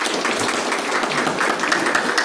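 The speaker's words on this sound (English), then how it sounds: "A big clap to all the devotees." An audience of devotees at a Srimad Bhagavat Saptaham satsang gathering claps in a brief, moderately loud burst of scattered applause with no voices over it.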